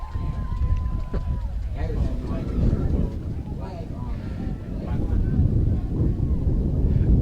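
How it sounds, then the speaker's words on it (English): Gusty wind buffets an outdoor microphone at a senior-night high school football game in Kewanee, a steady low roar with rising and falling gusts throughout, no voices. "This wind can stop."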